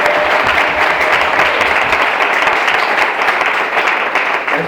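A church congregation applauds in praise, producing loud, dense and sustained clapping that fills the whole stretch without a break, with no voices standing out above it.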